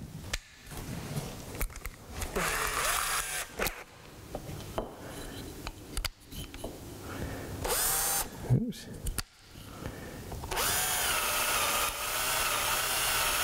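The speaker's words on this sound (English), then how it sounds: "So I'm going to use a drill." A power drill bores into a wooden stop held in a woodworking vise, sounding in short, irregular loud bursts broken by pauses and workshop handling noises.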